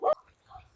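A dog in an Uttarakhand village gives a single short, sharp bark close by, followed by faint quiet background.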